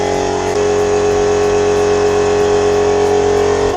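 A car engine freshly reinstalled runs steadily and loudly, a continuous droning hum with a slight shift in pitch early on, heard alone without voices.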